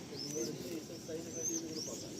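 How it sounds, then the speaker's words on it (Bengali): Madras pigeons in a loft give soft, quiet coos a few times over faint background murmuring. "এগুলো ম্যাড্রাস পায়রা"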